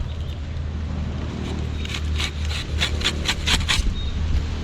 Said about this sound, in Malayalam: അയ്യോ കാറ്റ്